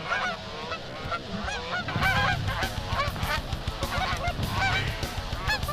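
A flock of geese honks loudly and continuously during an early goose hunt in Wisconsin, many overlapping calls close by, swelling louder after the first couple of seconds.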